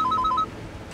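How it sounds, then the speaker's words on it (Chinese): A phone ringtone chirps as a quick run of short, bright electronic beeps alternating between two pitches, then cuts off into quiet room tone. "我接个电话"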